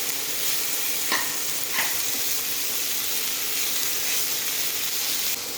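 Cauliflower and potato frying in a pan for homemade pasta, a steady close sizzle with occasional stirring scrapes throughout, no talking.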